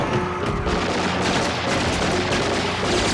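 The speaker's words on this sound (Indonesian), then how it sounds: "El Scorpio yang merupakan pimpinan geng keluar dalam keadaan panik dan menembak secara membabi buta" Gunfire from the 1990 film Predator 2 as gang leader El Scorpio shoots wildly in a panic, a dense unbroken volley of loud shots and booms that runs for the whole stretch.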